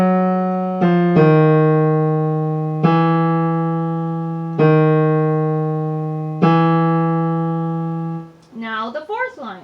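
A line of Khachaturian's 'Waltz' from Adventures of Ivan played on a sustained melodic instrument, five long accented notes each swelling in and slowly fading, close and alone, followed by a brief voice at the end.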